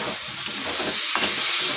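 Chilli powder and turmeric hiss and sizzle steadily in a hot pan just after a splash of water goes in, a close, continuous frying crackle with small bursts of steam.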